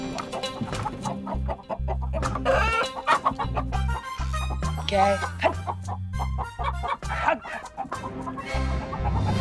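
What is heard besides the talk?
chicken clucking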